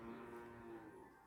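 A dairy cow that has recently calved gives a single drawn-out moo, steady and fairly faint, with no voices over it.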